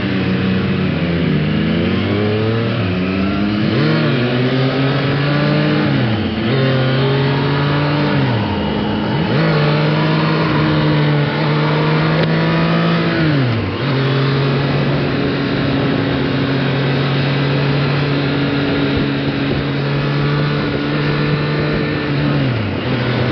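A Triumph Street Triple 765 motorcycle, a 765cc bike, accelerates hard on a first ride, its engine climbing through repeated rising pitch sweeps with gear changes, loud and close with no talk.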